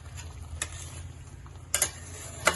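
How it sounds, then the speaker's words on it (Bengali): Fried eggs being stirred into a simmering gravy in a pan after a splash of water, with a soft steady sizzle under a few sharp spoon-against-pan clinks, two louder scrapes near the end. "এগুলোকে গ্রেভিটার সাথে ভালো করে মিশিয়ে দিতে হবে।"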